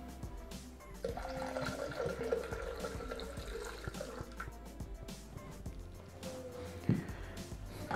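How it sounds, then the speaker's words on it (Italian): Iced sparkling water pours into a Thermomix jug for a white chocolate fizz, giving a steady gurgling, splashing stream that runs for several seconds at close range and ends with a soft knock. "Dopo aver fatto raffreddare il fizz, aggiungiamo l'acqua frizzante ghiacciata"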